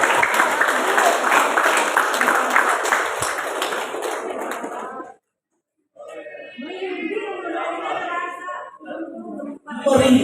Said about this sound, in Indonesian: Kita sambut dengan tepuk tangan Pak Ari Mariadi.